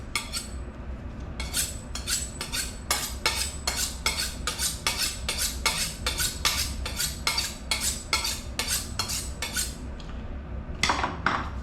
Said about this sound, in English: As you're using a knife, sharpen the knife.